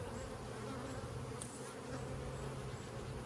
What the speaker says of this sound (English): Couple big old fat drones over here.